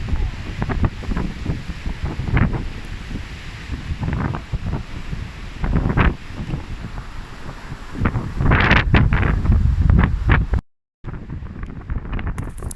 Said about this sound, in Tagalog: Ayan, sobrang hangin sa labas.